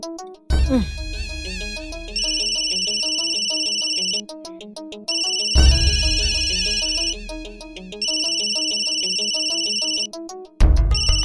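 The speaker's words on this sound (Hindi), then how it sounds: "कौन फोन कर रहा है हमारे बेटे को?" A phone ringtone plays a bright, repeating electronic melody in several loud bursts, with short pauses between them and no talking.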